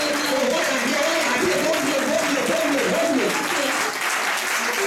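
A church congregation at an inauguration service applauds steadily and loudly, with voices singing or calling out over the continuous clapping throughout.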